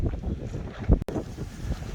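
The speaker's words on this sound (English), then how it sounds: "Wow, look how windy it is." Strong wind roars and buffets the microphone in continuous low gusts, with a brief cut midway.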